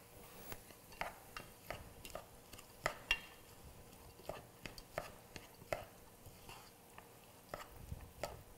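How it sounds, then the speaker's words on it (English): A spoon stirs a pot of vegetarian gravy, scraping and clicking in an irregular series of soft, close knocks against the pot, with no talk. "I'm going to give it a good stir."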